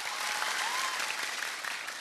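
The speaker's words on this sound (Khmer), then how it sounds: "សូមទះដៃឲ្យខ្លាំងឲ្យដាច់" A large concert audience claps loudly and steadily to vote for a contestant, a dense, continuous wash of applause at even volume from start to finish.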